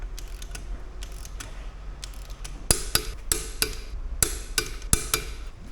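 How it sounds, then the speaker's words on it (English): Torque wrench clicking as wheel nuts are tightened on a Fiat 500 during a front brake pad job, a series of sharp metallic clicks and ratchet ticks, denser and louder in the second half. "always torque them up between like 120, 130 newton meters. Wait for the click."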